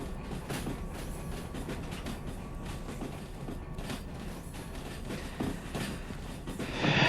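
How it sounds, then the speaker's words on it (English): A locomotive rolls along rails at about 15 km/h in the railway game Derail Valley, with a continuous loud rumble, rhythmic clicks and clacks, and metallic creaks, swelling slightly near the end. "Here's my locomotive, going 15 kilometers an hour."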